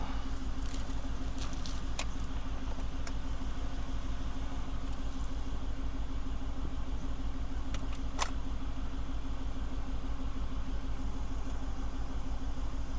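A car's engine runs steadily through a drive, with a low continuous hum and rumble and faint rattles and clicks from inside the cabin. No one speaks.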